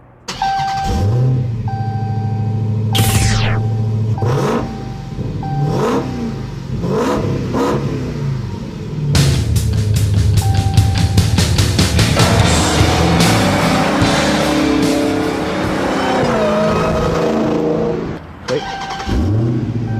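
A 2015 Dodge Challenger Hellcat's supercharged engine revs repeatedly up close, rising and falling in sharp bursts with a long sustained howl midway and a quick drop near the end.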